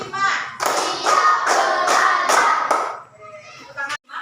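Hands clap together in time as a count is called, giving a run of about six crisp, regular claps, then a pause and one last clap, with voices speaking over them.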